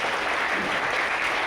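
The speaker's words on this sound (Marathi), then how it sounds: "एकदा जोरदार टाळ्या वाजवा" An audience at a kirtan claps in a short, dense burst of applause, steady and fairly loud throughout.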